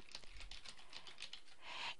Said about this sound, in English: So when I type my text and I hit the enter key, the line will expand.